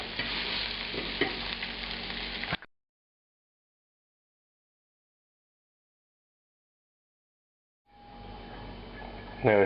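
Shrimp sizzle and fry in a pan while being stirred, cooked in batches for a wine and cream sauce dish, loud for a couple of seconds, then silence, then frying returns with a clatter near the end.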